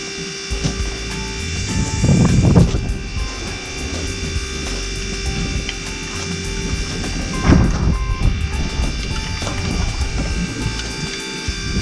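A small electric water transfer pump runs steadily, its hum and propeller-like drone constant throughout, swelling slightly twice as it draws from a bottle and discharges into a pressure tank.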